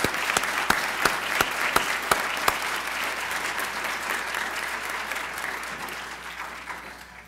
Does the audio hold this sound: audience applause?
yes